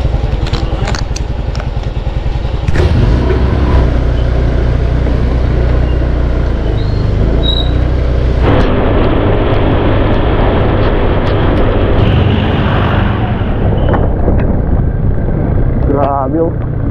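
Two motorcycles set off on a ride to go fishing, their engines droning loud and steady close by, with people talking over the running motors throughout.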